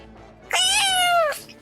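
A grumpy cat, just woken from sleep, lets out a single drawn-out meow, close and clear, with a brief trailing sound after it.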